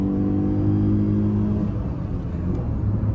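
A car's engine accelerates hard in second gear during a Renault Kwid versus Tata Tiago race, a loud close rumbling drone whose pitch shifts as revs change, with no voices.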